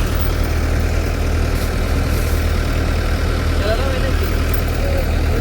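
Two tractors hitched together strain to pull a trailer stuck in the ground, giving a continuous low, heavy engine rumble with no pauses, and faint voices underneath.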